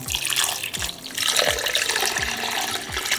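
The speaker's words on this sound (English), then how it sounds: "Then we're gonna add about 2 to 4 cups of water" Water is poured into a cooking pot, a continuous splashing rush with gurgling bubbles and slight sloshing, close and fairly loud, with no talking.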